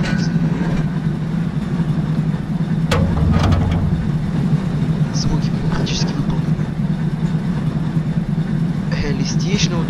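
A simulated LiAZ 677 city bus engine in the OMSI 2 driving game cranks briefly with a short rattling burst, then settles into a loud, steady low-pitched idle rumble that runs to the end.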